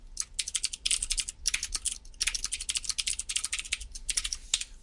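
Quick, steady keystrokes of someone typing C# code on a computer keyboard, clicking close and clear in uneven bursts with short pauses between phrases.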